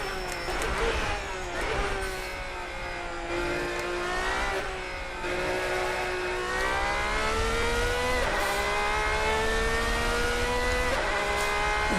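A race car in the Assetto Corsa racing game screams at high revs, with engine pitch rising through the gears and dropping on downshifts, loud and continuous.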